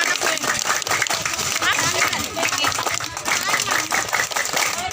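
Children perform the rhythmic Indonesian scout clap (tepuk pramuka) at a relief gathering with army soldiers, a patterned series of quick group claps mixed with lively children's voices and chatter close by.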